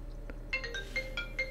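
A phone rings faintly indoors, several short electronic tones repeating in a quick pattern over a steady low background hum, with no talking.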